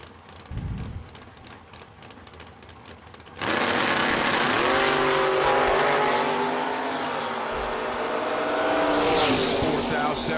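A Chevrolet S10 and a Camaro launching in a drag race at a dragstrip: after a quieter stretch, loud engines suddenly roar and hold a sustained, rising howl as the cars pull away, with an announcer's voice heard over them.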